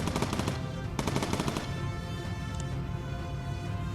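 Machine guns fire in the Bomber Crew video game, with rapid bursts of rattling shots early on that give way to a dense, steady roar of combat noise.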